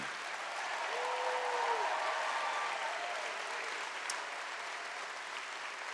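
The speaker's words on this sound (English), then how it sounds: "How about a huge round of applause" Steady applause fills a large hall at a national Liberal party convention, a broad wash of many hands clapping at moderate loudness without a break.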